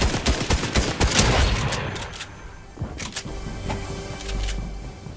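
Rapid gunfire in a video game, a dense burst of quick repeated shots up front, then scattered sharper pops and mechanical whirring under a low rumble.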